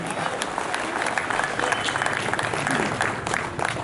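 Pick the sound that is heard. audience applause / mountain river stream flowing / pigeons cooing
audience applause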